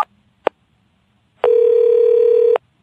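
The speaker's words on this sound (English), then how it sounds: "Mr. Williams picked up the phone and dialed his home number." Telephone dialing a home number: two short clicks of the handset, then a pause and a steady electronic tone lasting about a second before it cuts off cleanly, close and clear with no voices.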